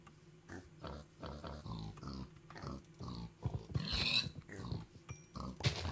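Pigs oink and grunt in a video game as they are hunted, with several short snorting calls, some higher squeals, and a few growly noises scattered through a moderate, uneven game soundscape.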